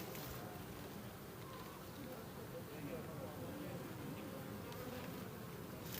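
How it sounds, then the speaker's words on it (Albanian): Honeybees buzzing steadily around an open hive in December in Durrës, a continuous dense insect drone filling the whole stretch with faint voices in the background. "Dhe bletët, po t'i shihni, janë duke punu pa pushim."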